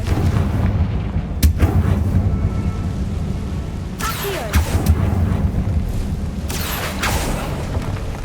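Confringo spell explosions in the Hogwarts Legacy video game: a few sharp blasts and crackling bursts spaced several seconds apart over a steady rumbling game ambience, with no talk.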